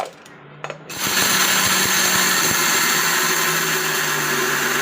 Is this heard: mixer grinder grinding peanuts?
yes